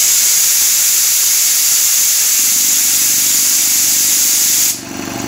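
A rebuilt Quincy 210 air compressor with a pilot unloader valve vents pressure in a loud, steady hiss. A low motor hum joins partway through, and the hiss then cuts off, leaving only the hum.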